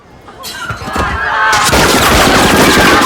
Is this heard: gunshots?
yes